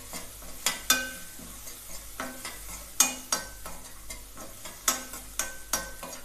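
Soaked lentils being mixed with taakla leaves in a pan, spatula strokes scraping at a steady, unhurried pace over a faint sizzle, close and quiet, no voices.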